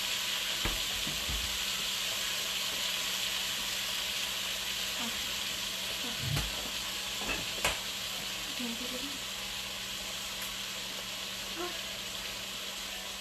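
Meat sizzles steadily in a hot pan, a loud continuous hiss with a few faint clinks and taps.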